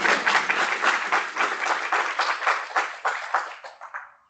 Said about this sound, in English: please a double round of applause for him